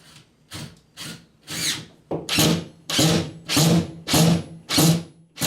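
A power drill drives a screw into a wall stud while fishing rod racks go up at a lake cottage. Close, rhythmic rasping bursts repeat about nine times, growing steadier and louder as the screw bites into the wood.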